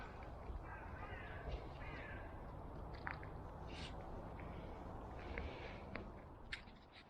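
Crows caw in an autumn forest in France during mushroom picking, several faint, distant calls scattered over quiet woodland ambience with light rustling.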